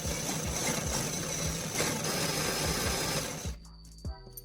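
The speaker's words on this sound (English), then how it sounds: "I'm attaching a cordless drill to the axle of the small sprocket." A cordless drill turning a winch reel built from old motorcycle sprockets whirs steadily with rhythmic clicking as the reel turns, then stops abruptly, leaving a few light clunks.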